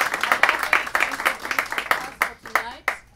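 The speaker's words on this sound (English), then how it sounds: "Another round of applause for the actors." Audience clapping for actors at the close of a stage performance, a dense patter of hands in a loose rhythm that thins toward the end, with voices talking over it.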